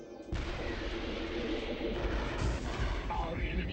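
A shrapnel grenade explodes in a Transformers cartoon, a loud sustained blast with dense broadband rumble and crackle that roars continuously for several seconds without any talk.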